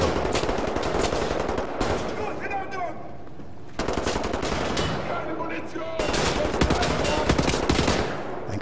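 Rapid machine-gun bursts and shots from the first-person shooter Wolfenstein: The New Order, loud and nearly continuous in several dense stretches, with in-game voices and effects mixed underneath.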